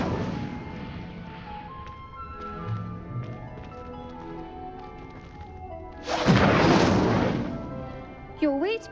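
Fiery Incendio spell cast in Hogwarts Legacy, a loud roaring whoosh bursting in for about two seconds over game music and ambience, followed by a short tonal chime.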